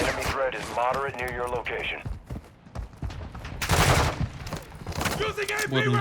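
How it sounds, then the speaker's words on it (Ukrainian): Bursts of rapid gunfire in Call of Duty Warzone DMZ crackle and boom in stretches, with people talking over and between the shots. "Глянь, ці боти по нам стріляють."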